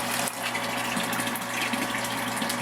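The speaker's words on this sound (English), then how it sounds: "So I'm recirculating right now, basically just trying to get it to cool off." Electric brew-in-a-bag brewing system pump recirculating mash liquid, a steady close gushing, rushing flow of water with a constant low pump hum underneath.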